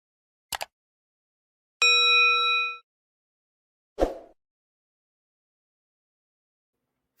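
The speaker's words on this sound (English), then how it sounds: "hit the notification bell" A notification bell sound effect rings once as a clean, bright ding with ringing overtones and sustains for about a second. Sharp clicks and a thump come before and after it, with silence between.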